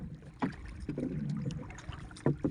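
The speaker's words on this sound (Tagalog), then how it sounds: "So gamit natin bangka, maliit lang." A small wooden fishing boat heading out on the open sea, with water sloshing and knocking against the hull in irregular bursts over steady wind and engine-like rumble, fairly close.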